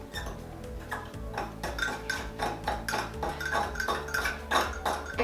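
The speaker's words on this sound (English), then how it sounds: "once it's melted, you're just going to mix it together" A spoon stirs melted chocolate and coconut oil together in a bowl, making about a dozen rhythmic clinks and scrapes against the dish, close and fairly quiet, with no talking.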